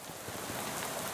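Steady rain falls in a video game scene, a dense, even hiss of drops hitting a surface, continuous and close with no pauses.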